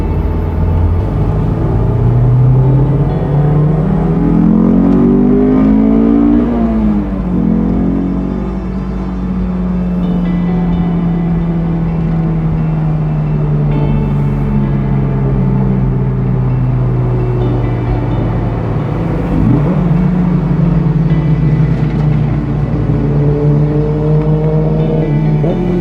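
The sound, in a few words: Honda S2000 sports car engine driving at night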